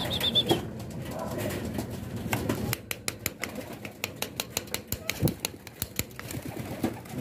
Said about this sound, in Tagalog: At ayan nga, lumipad na yung ating mga flyers, yung tatlo.